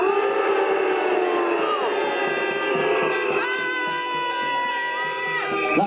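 A large anti-lockdown protest crowd in Manchester, December 2020, boos loudly and continuously. Many voices blend into sustained, wavering tones that swell and dip, with jeers and shouts rising above the steady crowd noise.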